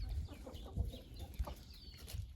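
A hen clucks softly at a hopper feeder, pecking grain with intermittent low knocks and short clucks close by, no talk.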